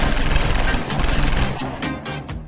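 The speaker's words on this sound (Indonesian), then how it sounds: "Tiba-tiba Im nampak seseorang datang lalu melepaskan tembakan ke arah Kak Tuti dan Abang Kamil." Gunfire erupts in a Malay television film, a dense burst of loud overlapping shots and cracks close by, fading into scattered reports.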